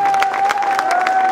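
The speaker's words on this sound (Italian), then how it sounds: "un applauso, dai!" An audience at an evening stage show in August 2014 applauds to welcome a guest onto the stage, a brief burst of crowd clapping under a steady sustained tone.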